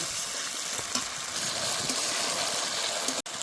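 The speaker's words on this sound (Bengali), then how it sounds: "আবারও কিছুক্ষণ কষে নেব" Spice paste being sautéed with gobindobhog rice, cashew and poppy-seed paste, giving a steady close hiss of frying across the whole stretch with no talk.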